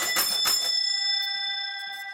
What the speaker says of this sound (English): Conductor goes bing, and you go bing once on your dime to acknowledge that you received his signal.